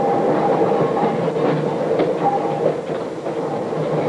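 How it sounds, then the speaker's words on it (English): A southbound North Shore Line Electroliner interurban train streaks past toward Chicago in 1945, a loud, steady rumble and roar with rhythmic clickety-clack of wheels on rail joints, close by throughout. "The southbound electroliner streaks past us,"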